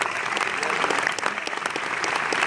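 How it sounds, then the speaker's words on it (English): Audience at a live Q&A applauding, dense continuous clapping from a large crowd, steady and loud for the whole stretch. "You have to applaud."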